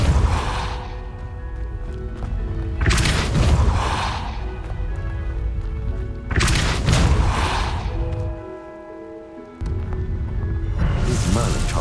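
Repulsor spell blasts in Hogwarts Legacy, several loud whooshing bursts with booming impacts roughly every few seconds over a steady background, with a short quieter gap between them.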